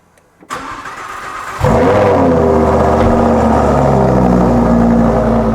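A support vehicle's engine is started up close: a short crank, then it catches with a loud flare and drops into a steady, even idle that continues to the end.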